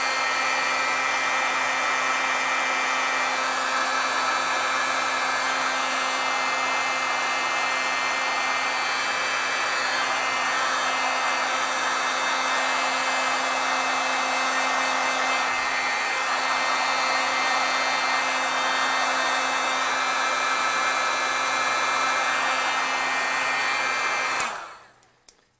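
A heat tool blows on warped foil during a heat-setting pass, giving a loud, continuous close whoosh with a steady humming tone that runs unbroken for about 24 seconds, then cuts off abruptly.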